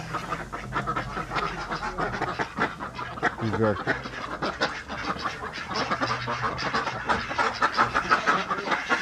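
Ducks quack in brief, scattered calls at a small animal show in Leingarten, set against a busy hall with steady crowd chatter and people talking nearby.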